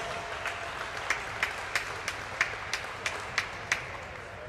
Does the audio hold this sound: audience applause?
yes